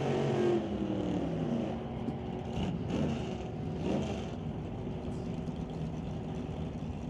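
A Plymouth Cuda and a 1955 Chevy launch and race at an NHRA drag event, their engines roaring loudly with rising revs and gear changes, then a sustained loud drone.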